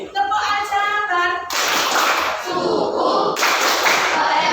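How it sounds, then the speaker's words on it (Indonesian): Indonesian classroom students doing the rhythmic 'tepuk aljabar' algebra clapping chant as a warm-up, a group of hand claps in bursts with voices chanting and talking between them. "ayo kita bersama-sama melakukan pemanasan dulu ya, yaitu yang sudah saya ajari, tepuk aljabar."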